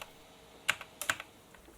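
Several keystrokes on a keyboard hooked up to a retro 486 PC whose keyboard controller has been acting up, heard as a few sharp clicks in two small clusters against a quiet background.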